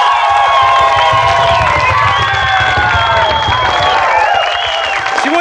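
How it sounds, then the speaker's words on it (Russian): Studio audience of a 1996 children's video game TV tournament applauding and cheering, with shouts and children's voices over steady clapping and a musical tone in the background, loud and continuous. "Бурные аплодисменты!"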